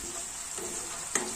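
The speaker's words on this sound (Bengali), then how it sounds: "তেল উঠা পর্যন্ত মশলাটারে লো ফ্লেমে আমি ভাজা করব" Masala frying in oil over a low flame while being stirred, a steady soft sizzle with brief scraping stir sounds, close and alone without talk.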